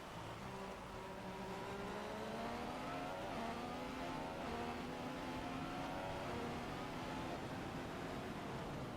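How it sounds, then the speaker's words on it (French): Formula 1 car engine in the F1 2015 racing video game during a free practice lap, a continuous high-pitched whine that rises and falls through the gears and stays steady and fairly loud throughout, with no talking. "j'arrive quand même à suivre Raikkonen, hein, mine de rien, sur mon premier tour, sur mon second tour d'essai libre"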